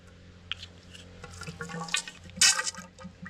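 Fork oil poured into the front fork of a 2019 Geon X-Road 200 motorcycle during a seal and oil change, a short close trickling and gurgling of liquid that swells briefly, no talk.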